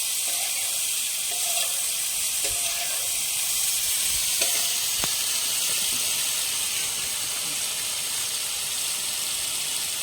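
Prawns fry in ghee in a pan for a coastal-style ghee roast, giving a loud, steady, close sizzle with occasional stirring scrapes and light clinks, and no voices.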